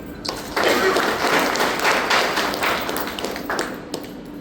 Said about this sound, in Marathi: आपण जोरात टाळ्या वाजवू.